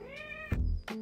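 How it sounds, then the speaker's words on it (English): A cat meows twice in quick succession, close and fairly loud, while its nails are being clipped. "You can hear her meowing in the video as we do her clipping."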